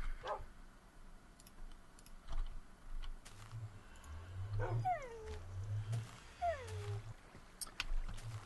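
Dogs bark in Minecraft with the Better Than Wolves mod: several short, clear barks in irregular bursts, with faint clicks and keyboard taps between them, and no talking.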